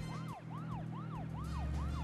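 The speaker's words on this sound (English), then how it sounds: "I have my siren running." A police siren in the video game Deadly Premonition wails up and down in a steady repeating cycle over a low engine drone, fairly faint and without any voices.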